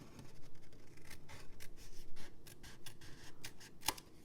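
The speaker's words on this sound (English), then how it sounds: "I'm just cutting at a slight angle, kind of mitering those." Scissors snipping paper while making a fold-flat mini box, a faint series of short crisp cuts spaced irregularly, close and quiet with light rustling between them.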